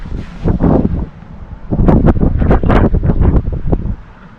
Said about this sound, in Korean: 바람 너무 많이 분다